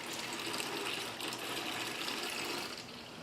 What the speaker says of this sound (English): That's a lot of water inside this block.